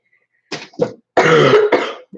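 A few rough throat clearings and short coughs in quick bursts, close and fairly loud, with brief pauses between them.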